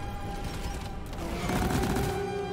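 The Lok-1 rifle fires in Deep Rock Galactic, a rapid string of mechanical gunshots over steady game ambience and a sustained electronic hum, with the shots thickening toward the end.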